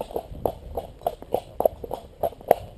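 A cob named Higgins walks along, hooves clip-clopping in a steady four-beat rhythm with crisp, close strikes on a hard surface, no voices over them.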